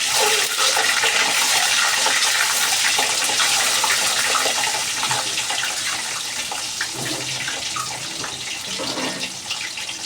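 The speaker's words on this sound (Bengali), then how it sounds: "ডিমগুলোকে এখন ভেজে নিব।" Eggs coated in turmeric powder fry in a hot pan, giving a loud, steady sizzle that fills the whole stretch and eases off slightly toward the end, with no talking.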